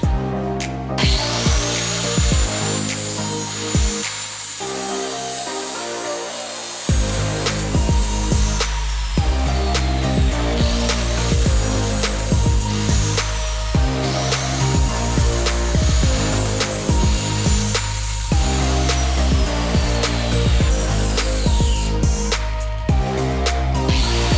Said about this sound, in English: Okay, so let's grind.